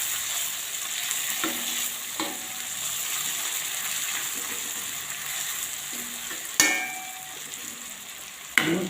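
Manthal fish frying in a pan and turned with a spatula: a steady moderate sizzle with scattered crackles and a couple of sharp metallic scrapes or taps near the end, no voices.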